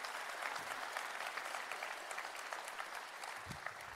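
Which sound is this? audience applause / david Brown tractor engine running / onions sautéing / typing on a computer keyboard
audience applause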